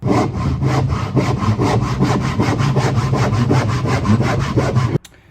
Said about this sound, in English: I just do it all by hand, but what I'm going to do is cut that into a workable rectangle